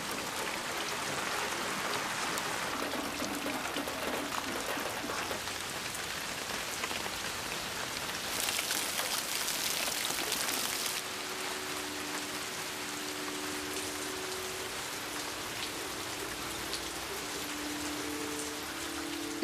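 Steady rain falling outdoors, a continuous dense patter of drops on surfaces filling the whole space, with a brief heavier burst midway and a faint low tonal hum in the background later on.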